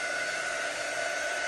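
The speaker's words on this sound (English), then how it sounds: "when you take your dryer, you want to dry away from the transfer." Handheld hair dryer blowing steadily while drying a craft transfer, a constant loud whooshing hiss of air with a motor whine running unbroken throughout, no voices.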